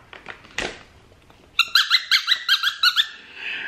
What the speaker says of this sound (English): the next thing we got is a squeak ball, a little durable natural rubber.